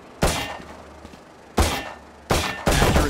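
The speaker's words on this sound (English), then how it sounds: "Now shoot that flying target for me." Three sharp, loud gunshots in Valorant fired at a flying target, each a sudden blast with a short decaying tail, spaced about a second apart, the last followed quickly by a fourth.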